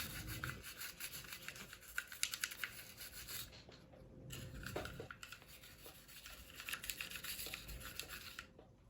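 Cleaning brush scrubbing a Ruger S-9 pistol, including up in the magazine area: repeated close scratchy rubbing strokes in uneven bursts, with short pauses between passes and no voice.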